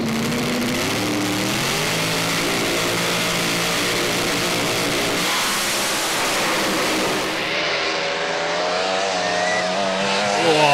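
A small-cube drag racing dragster with short header pipes launches and roars down the strip at an ANDRA event in Adelaide, a loud sustained engine howl that stays strong throughout and shifts in pitch near the end.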